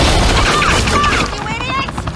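Heavy gunfire in a Batman video game, loud booming shots up close with a voice shouting over the fusillade.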